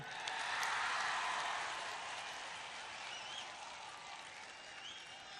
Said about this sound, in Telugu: కాంగ్రెస్ పార్టీ ఎంపీలకి ఆయన రాజ్యసభ నుంచి, ఆంధ్రప్రదేశ్ నుంచి ఎన్నుకున్నందుకు మీరందరూ ఒకసారి జయరాం రమేష్ గారు చప్పట్లు కొట్టండి అందరూ